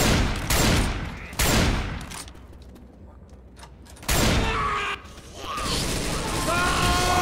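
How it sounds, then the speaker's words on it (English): Gunfire in Left 4 Dead 2 comes in loud bursts of rapid shots separated by quieter stretches, with mechanical clicks and faint voices underneath. "The guy nearly shot Bill right there."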